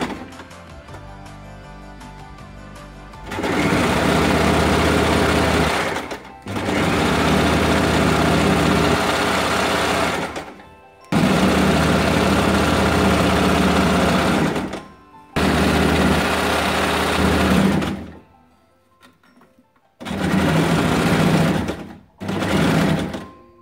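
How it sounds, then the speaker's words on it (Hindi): A sewing machine stitches elastic onto palazzo pants in several loud, sustained runs of rapid mechanical whirring, each lasting a few seconds and separated by brief pauses. "सबसे पहले इलास्टिक को लॉक करने के लिए हम इसे सिलाई लगा देते हैं"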